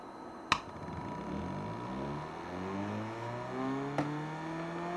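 A magnetic wheel on a dynamo generator whirs as it spins back up to speed, with a rising hum and climbing tones building steadily, and a sharp click near the start and another toward the end.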